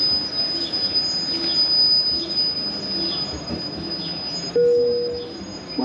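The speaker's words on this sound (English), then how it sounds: "Welcome aboard Malta Fun Trains." A Malta road tourist train rolls through Valletta, its wheels squealing in a sustained high whine over a rumbling ride, with a brief louder squeal near the end.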